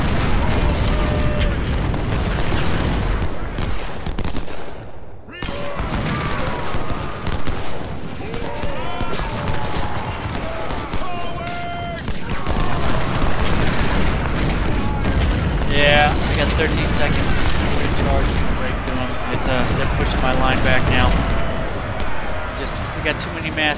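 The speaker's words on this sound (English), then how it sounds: "Cannon." Cannon fire during a Civil War video game battle at Fredericksburg: repeated heavy booms and musket crackle over a dense, continuous battlefield din, loud throughout, with a brief lull near the middle.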